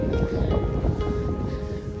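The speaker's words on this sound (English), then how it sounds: "because it's windy." Wind blowing outdoors on a walk with a Labrador retriever, a steady, low, rushing roar buffeting the microphone throughout, with no voices.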